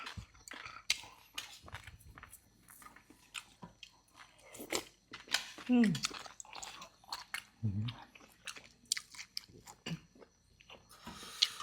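Close, wet chewing and crunching of blanched squid, with soft bites and mouth sounds in an irregular rhythm and a brief murmur from the eater.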